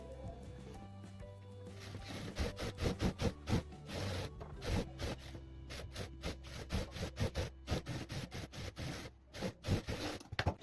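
A sewing machine stitches the lining of a blouse, giving a steady, close mechanical clatter in quick rhythmic bursts that pause and restart. No one speaks over it.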